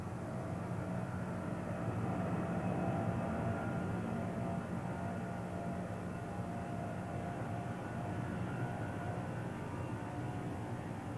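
A Boeing 747 jumbo jet takes off as a steady, broad, loud roar of jet engines that holds evenly throughout with no voices.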